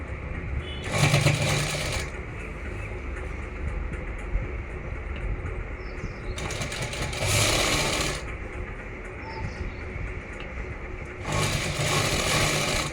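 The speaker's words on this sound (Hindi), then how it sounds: "1/2 इंच सलवार के कपड़े को बिल्कुल इसके कान्ने कान्ने पर सिलाई मार देंगे ऊपर" A sewing machine stitching along the edge of salwar fabric, with three bursts of rapid rattling whir, each a second or two long, over a low steady background.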